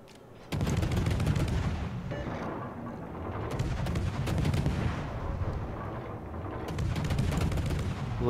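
The French cruiser Colbert fires its guns over and over in World of Warships, a dense rapid barrage of booming shots. It fills nearly the whole stretch with only brief lulls.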